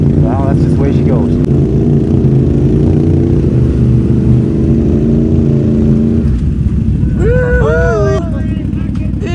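Can-Am Renegade ATV engine revving under throttle on a rough trail, a loud, steady drone with rising and falling pitch as the rider works the throttle, with voices calling out near the end.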